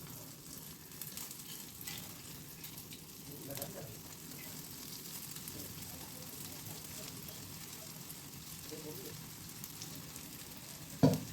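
Moong dal vadas fry in hot oil with a steady, close, even sizzle and crackle that runs the whole time, and a brief clatter comes near the end.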